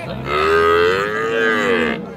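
A Friesian cow at the Raniganj cattle market in Dinajpur gives one loud, close, drawn-out moo lasting about two seconds, with no talk over it.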